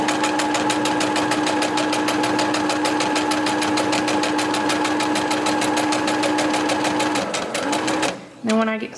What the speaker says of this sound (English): And then I will begin sewing that side.